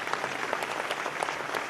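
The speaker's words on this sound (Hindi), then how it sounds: "तालियां उनके लिए।" Audience applauding at an award ceremony in the newly built Ravindra auditorium, a dense, steady patter of many hands clapping at moderate distance, continuous for the short stretch with no voices on top.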